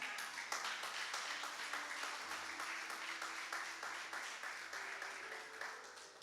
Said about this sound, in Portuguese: Vocês podem aplaudir ao Senhor Jesus?